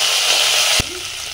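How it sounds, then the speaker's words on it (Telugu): Spices and cashews sizzle in hot oil with a loud, bright hiss that stops after a sharp thud partway through, leaving only a faint sizzle. "ఇవన్నీ టపటపలాడించాలి."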